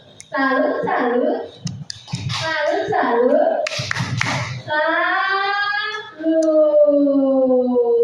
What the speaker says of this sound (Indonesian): Kita akan salut dulu dengan Pak Yan. Ya, tepuk salut.